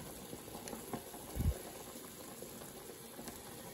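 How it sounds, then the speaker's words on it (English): A pot of collard greens, seasoned with salt, pepper and oil, bubbles at a steady boil, a continuous close wash of liquid bubbling with one brief louder low thump midway, no voices. "It's boiling."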